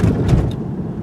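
A 2017 BMW 530i passes over a speed bump at about 25 mph inside the cabin: a couple of dull, muffled thumps over a steady low road rumble.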